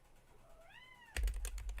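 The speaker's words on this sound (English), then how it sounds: "My cat's having zoomies." A pet cat gives one drawn-out, rising meow, fairly clear and close, followed by a burst of loud knocking and thumping as it dashes about.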